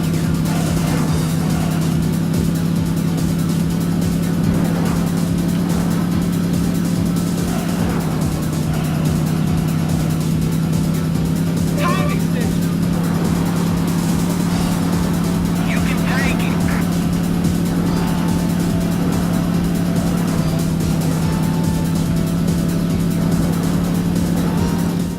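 A racing car engine in a Sega Saturn racing game drones steadily at a near-constant pitch for a long stretch, with a brief dip partway through, while people talk over it.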